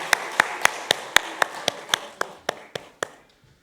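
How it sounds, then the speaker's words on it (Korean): A church congregation gives a brief burst of applause at the end of a worship service, about a dozen crisp, evenly spaced claps that fade over a few seconds, close and without talk. "차렷 인사 크게 박수해 주시기 바랍니다"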